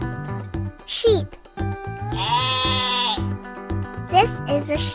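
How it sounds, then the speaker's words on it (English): A sheep bleats in a sustained wavering call, close and clear, over soft background music, with short cartoonish vocal sounds before and after. "This is a sheep."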